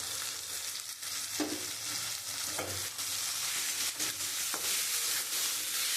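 Bitter gourd sautéed in a pan for a spicy mustard dish, a loud constant sizzle with repeated scraping and stirring strokes of a spatula, close and without talk.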